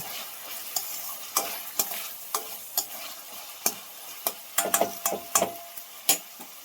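Onion and tomato sautéing with salt in an oiled pan, a soft sizzle under repeated sharp scraping and tapping strokes of a stirring spoon, irregular and close.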